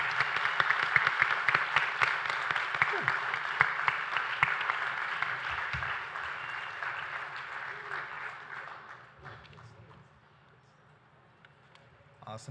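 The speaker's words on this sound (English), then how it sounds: "Let's give them all a round of applause." Audience applause at a mayoral forum, a sustained roomful of clapping that stays strong for several seconds, then thins and fades to scattered claps.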